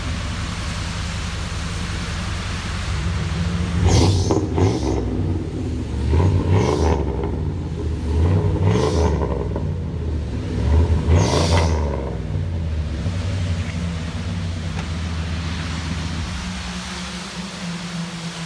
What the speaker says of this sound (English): This is that nice deep Flowmaster sound everybody's used to.